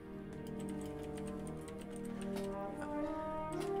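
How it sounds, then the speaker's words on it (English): Steady, soft clicking of keys being typed on a keyboard, continuous throughout over a background of layered musical tones. "as we wait for the typing to be finished"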